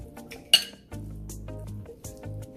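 Ingredients for a green pasta paste being dropped into a blender jar, a sharp clink of utensil on glass followed by softer thuds and bumps of food landing, close and fairly quiet.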